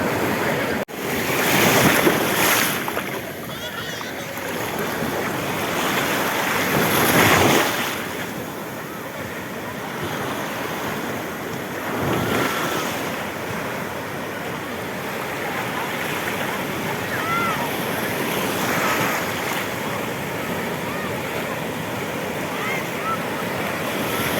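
Ocean waves break at a surf beach in La Union, each crash swelling into a loud rushing wash that repeats every few seconds over steady wind noise on the microphone.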